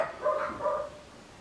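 A dog gives two short barks from some distance, faint against the quiet of a workshop where a lap joint is being cut by hand with a saw.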